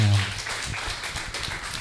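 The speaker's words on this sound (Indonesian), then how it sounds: "Ayo tepuk tangan untuk Tuhan" A church congregation breaks into dense, sustained applause during a worship service, a steady wash of many hands clapping at close range.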